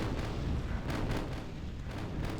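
An artillery battery firing in a Contra mod strategy game, with heavy booming blasts rolling one after another in a loud, continuous rumble.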